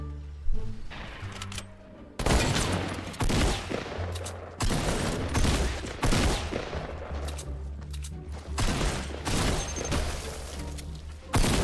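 Repeated heavy gunfire bursts from a tactical shotgun in the Fortnite battle royale game, loud and close with dense overlapping shots and booming impacts across the whole stretch, no talk.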